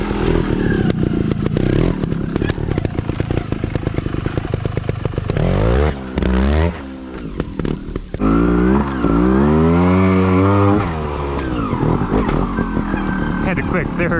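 A 2021 Sherco 300 ST factory trial motorcycle ridden over a snow and ice mix, with close, busy engine revving, repeated rising and falling throttle bursts, wheel spin and clattering, and a rider's voice talking briefly.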